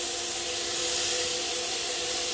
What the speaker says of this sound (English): he's going to start spraying past the side of the dresser